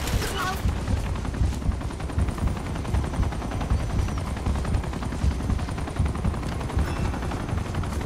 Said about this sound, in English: So, we're being shot at